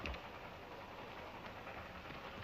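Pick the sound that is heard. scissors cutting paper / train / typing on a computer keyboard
train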